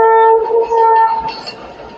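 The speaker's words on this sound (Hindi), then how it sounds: "और एक ट्रेन और यानी कि वहीं से निकल के जा रही है कैंट स्टेशन से, जाने को तैयार है।" A Pakistan Railways train departing Cantt station sounds a loud, close horn blast for about a second, then rail rumble and clatter linger more faintly.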